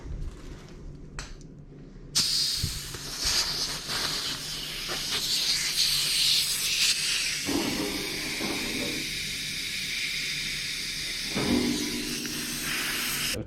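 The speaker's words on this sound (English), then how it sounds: "I'm going to spray the air compressor into this hose" Compressed air from an air compressor blasting through a rubber heater hose on a Mr. Heater garage heater, a sudden loud steady hiss that starts after a quieter stretch and keeps going with small surges in strength.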